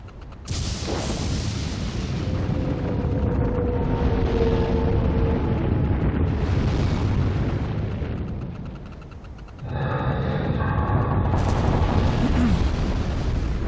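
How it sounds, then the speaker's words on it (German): Huge booming explosions from the Asura's Wrath video game roll in sustained, thunderous waves, dip briefly, then surge again with a bright blast and ringing tones layered over the rumble, loud and without speech. "einfach Explosion. Beziehungsweise Key-Explosion."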